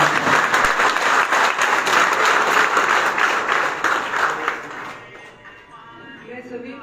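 Loud applause from a crowd at a party workers' meeting, dense clapping sustained for about five seconds before dying away into quieter room sound.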